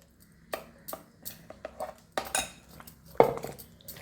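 Metal and glass clinks and taps ring out from a bowl as water is added to gram flour batter and mixed by hand for Bengali beguni, with several sharp separate knocks spread through a quiet kitchen.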